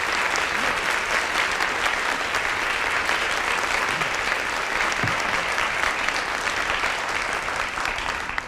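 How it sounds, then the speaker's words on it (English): Steady, dense applause fills an annual-meeting hall as the audience honors the 2010 honorees, a continuous roar of many hands clapping evenly for over eight seconds with no pause. "I lead us in a round of applause"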